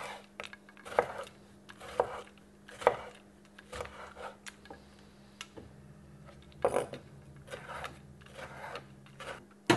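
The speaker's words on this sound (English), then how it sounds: "what I'm going to do is cut my tomato. And you just want to chop it into little squares" A knife chopping a tomato into small squares on a board, irregular knocks and scrapes in bursts with a steady low hum underneath.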